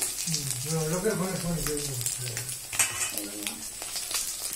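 Pieces of silver carp sizzle and crackle in hot oil in a pan, a close, steady frying hiss with a person talking over it.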